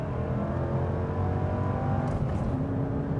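A Ford Mustang GT pulls hard with traction control off, its engine a steady low growl heard from inside the car, holding a strong drone with a slight rise in pitch toward the end.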